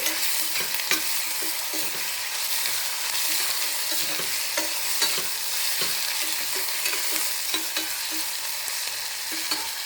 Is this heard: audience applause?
no